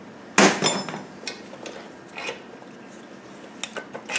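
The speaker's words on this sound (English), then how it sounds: "And then we're just going to pry off this cover." A metal top cover pried off a Land Rover Series 2a gearbox during a strip-down, giving a sharp metallic crack and clank followed by several lighter clinks and taps, close and alone.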